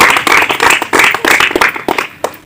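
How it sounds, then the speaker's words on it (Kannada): A crowd at a government model primary school event claps loudly and continuously, many hands overlapping in dense, rapid applause that fades slightly near the end. "ಅವರಿಗೆ ಜೋರಾದ ಚಪ್ಪಾಳೆಯಿಂದ ಅಭಿನಂದನೆ ಸಲ್ಲಿಸೋಣ."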